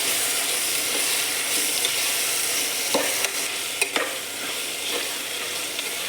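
Tomatoes fry in a pan for chicken curry with a constant close sizzle, broken by a few scraping stirs and clicks of the spoon against the pan, with no speech.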